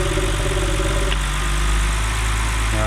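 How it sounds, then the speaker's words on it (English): A BMW engine idles steadily up close, its low rumble holding even before the idle speed shifts slightly near the end. "the idle changes when you open it"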